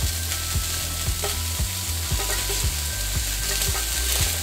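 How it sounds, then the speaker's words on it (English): Chicken fajita filling for a thin-crust pizza sizzles loudly in a hot pan with no oil, while a utensil scrapes and stirs it in a steady rhythm of repeated strokes, with no talking. "I'm just pretty much trying to stir it a little bit."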